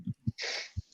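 A single quiet human sneeze bursts out after a couple of short breathy catches, followed by a brief soft puff, close and alone.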